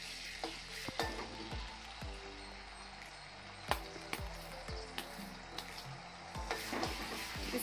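Ginger garlic paste frying in hot oil for an egg curry, with a continuous close sizzle and a series of regular thumping stirs or taps, about one per second, with no talk.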